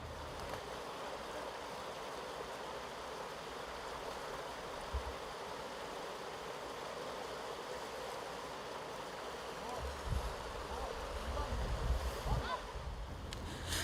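River current flowing steadily at Lofoi falls in Katanga, a continuous broadband rush of water that swells louder and rougher toward the end, with no voices over it.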